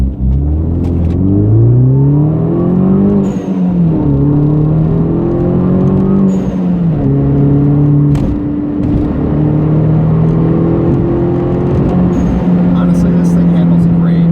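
An R56 Mini Cooper S fitted with coilovers drives a twisty road, its engine droning loud and close from inside the cabin, pitch rising and falling as it accelerates and shifts through the bends.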